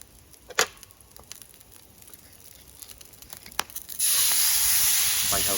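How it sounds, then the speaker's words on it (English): A hot pan on a Trangia camping stove being deglazed with liquid during beef bourguignon cooking, quiet crackles and ticks at first, then a sudden loud, steady hiss of sizzling steam that holds to the end. "Now let's deglaze the pan."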